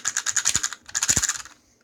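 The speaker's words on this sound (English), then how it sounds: "these little upside down pieces rub against this right side up piece, and it makes that" Rapid plastic clicking and rattling in two short bursts as Lego pieces rub against each other in a Lego toy grenade launcher, close and fairly quiet.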